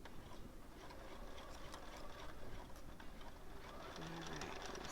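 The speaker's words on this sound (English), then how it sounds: "I'm just going to stitch right along here." A sewing machine stitches Minky fabric for a pillow, its steady fast mechanical whir running through the whole stretch at moderate volume, with speech at times.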